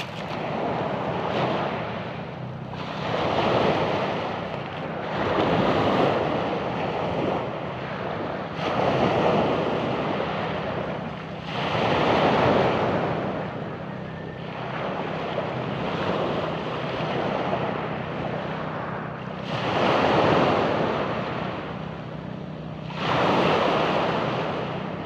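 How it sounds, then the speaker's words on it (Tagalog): Heavy surf rolls in again and again, each wave building into a loud, rushing crash before fading, with wind buffeting the microphone throughout. "maalon dito sa barangay namin"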